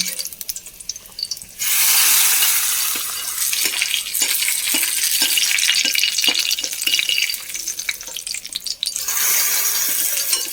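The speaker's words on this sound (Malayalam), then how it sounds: "മീൻ ഉള്ളി മൂപ്പിക്കണതാട്ടോ" Loud, steady sizzle of onions frying starting abruptly, with rhythmic scraping of a spatula stirring in the pan, then easing before surging again.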